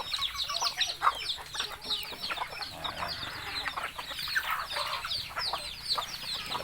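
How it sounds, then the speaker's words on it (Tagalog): Chickens on a farm clucking and chattering, with roosters and chicks among them, a busy, overlapping flock of calls at close range throughout. "yung mga tandang natin, yung mga pasisiw natin"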